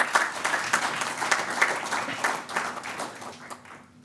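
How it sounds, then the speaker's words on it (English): An audience at a national security conference's closing session claps in a moderate, fairly dense burst that fades gradually over a few seconds, heard at some distance in a hall. "A round of applause to all our sessions,"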